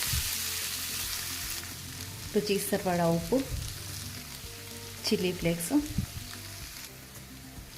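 Potato and carrot pieces fry in hot oil in a pan with cumin seeds and curry leaves, giving a soft, continuous sizzle that runs throughout while a voice speaks over it twice.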